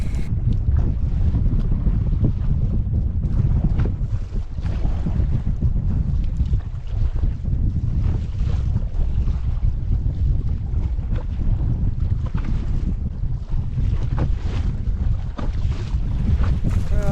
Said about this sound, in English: the wind's dying out a little bit